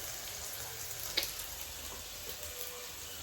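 Mustard seeds, chana dal, cumin, onion and curry leaves frying in oil, a faint continuous sizzle with one small pop early on.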